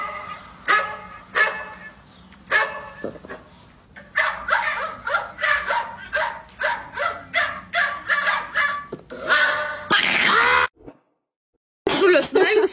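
A dog barks repeatedly in short, loud bursts with occasional whimpering groans, close by, with a brief silence near the end.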